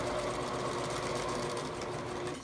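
Sewing a photo pillow's side seam, the machine hums in a continuous, even stream of fast needle strokes at close range, easing off slightly at the very end.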